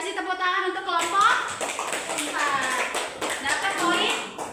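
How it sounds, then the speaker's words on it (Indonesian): Schoolchildren in an elementary classroom clap for a group, quick rhythmic bursts of hand claps mixed with children's voices and chatter throughout. "Kasih tepuk tangan untuk kelompok"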